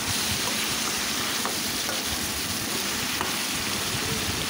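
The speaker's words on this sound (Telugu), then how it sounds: "వేసేసుకొని ఈ ఆయిల్లో బాగా ఫ్రై అయ్యే విధంగా ఈ విధంగా కలుపుకోండి." Brinjal pieces fry in oil and are stirred around the pan, a loud, dense, continuous close sizzle with faint scraping taps as they are mixed.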